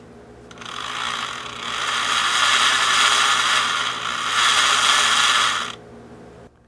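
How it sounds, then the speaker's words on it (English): A Lionel HO scale model locomotive's electric motor spins up on its own, a steady mechanical whir that swells within the first seconds, holds loud and even, then cuts off abruptly. "the motor spun right up, so that's good"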